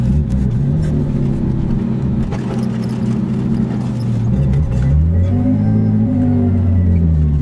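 A Nissan R32 Skyline rolls into a garage, its engine rumbling loud and close at low revs with a few gentle rises and falls in pitch as it creeps forward, no talking.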